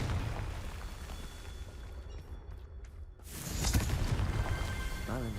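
The Confringo fire spell in Hogwarts Legacy erupts as a loud, booming blast that swells out of a rumbling, noisy game soundscape partway through.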